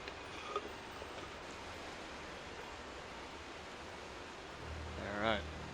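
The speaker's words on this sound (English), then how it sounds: "Pretty waterfall." Steady rushing waterfall in the Pokemon Scarlet video game, a constant broad wash of falling water that holds evenly throughout, with a brief tonal chime near the end.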